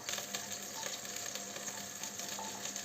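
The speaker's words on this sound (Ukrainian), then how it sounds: "І підсмажуємо цибульку." Young homegrown onion sautéing in a pan, a soft steady sizzle with faint stirring clicks, quiet and close, no voices.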